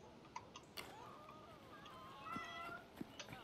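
A cat meows in an Assassin's Creed Syndicate game, a few soft, rising mews heard faintly amid quiet background clicks.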